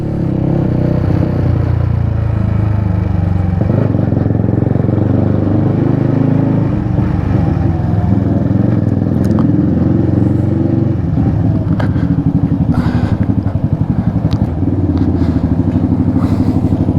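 A small LX Adventure motorcycle engine drones steadily and close throughout a ride, with a constant low hum, slight revving and rattling clatter mixed with wind noise.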